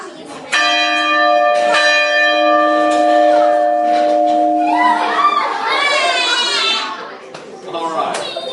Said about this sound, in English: We're going to ring the bell one more time, so fingers in your ears.